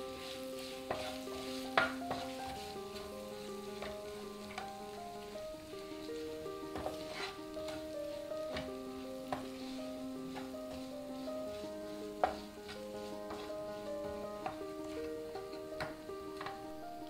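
Spoon stirring rock salt and black pepper into a fasting dosa stuffing, soft repeated scraping and light ticks against the bowl over a quiet hum, with background music and no talking.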